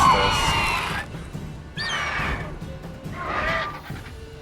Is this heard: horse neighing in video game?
yes